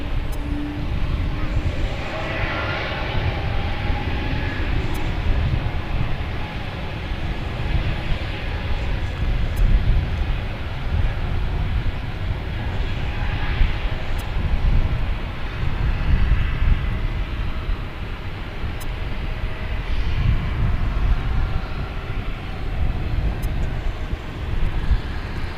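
Jet airliner engine roar from an American Airlines heavy taking off on runway 18 left at Dallas/Fort Worth airport, a steady loud low rumble with wind noise throughout and faint radio chatter underneath.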